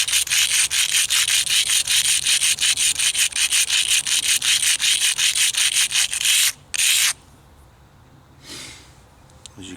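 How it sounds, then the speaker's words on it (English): A piece of slate is rubbed back and forth against a cinder block to shape a spearhead, giving steady rhythmic gritty scraping strokes that stop abruptly near the end, followed by faint handling noise. "all I'm going to do is just start shaping this by rubbing it."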